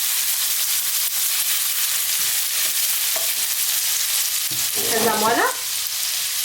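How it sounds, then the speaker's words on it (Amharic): Garlic and ginger fry in hot oil in a pan on high heat for chicken vegetable fried rice, a steady close sizzle and hiss throughout, with a brief spoken phrase near the end. "እየጠበስን ነው የምንሰራው። ምን እጨምራለሁ? ነጭ ሽንኩርትና ዝንጅብል እንጨምራለን።"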